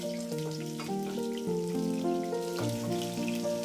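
Crushed garlic cloves frying in oil: a constant crackling sizzle, like light rain, runs throughout at moderate loudness under steady tonal background music, with no voices.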